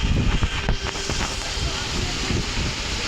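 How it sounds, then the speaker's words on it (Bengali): Strong wind gusts buffet the microphone ahead of rain, a loud rough rumble that surges unevenly across the whole span with no voices. "এই যে অনেক হাওয়া হচ্ছে"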